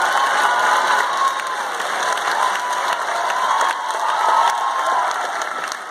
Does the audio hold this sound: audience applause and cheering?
yes